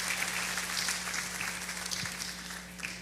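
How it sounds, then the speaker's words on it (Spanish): A church congregation claps steadily for a few seconds, a soft, even patter of applause that slowly thins out toward the end. "Démosle un aplauso."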